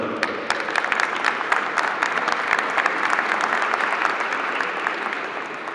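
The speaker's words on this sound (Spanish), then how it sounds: "pido un fuerte aplauso" Sustained audience applause at a civic ceremony marking the anniversary of Mexico's constitution, dense steady clapping from a large crowd heard alone for several seconds at an even level.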